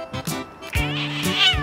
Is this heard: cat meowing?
yes